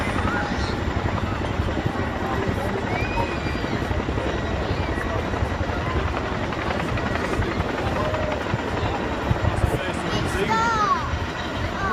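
Royal Air Force Chinook twin-rotor helicopter in a flying display at an armed forces day at Cleethorpes, a steady loud rotor drone holding throughout with an announcer speaking over it.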